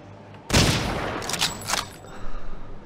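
Gunfire in the video game Hidden & Dangerous 2: a loud sudden burst of shots, then a few fainter scattered shots trailing off, with no talk over it.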